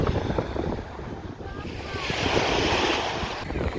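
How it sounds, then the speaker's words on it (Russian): Wind rushing across the microphone at Landa Beach, Ayia Napa, Cyprus, rising and falling, with waves washing in and out in the background. "Небольшой ветер."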